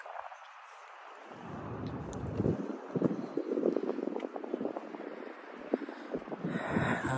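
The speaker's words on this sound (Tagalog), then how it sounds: "Napaka lakas ng hangin." Strong gusty wind buffets the microphone at a seaside fishing spot near Landmark Tower, rumbling in uneven low bursts that swell and fade throughout, with no one speaking.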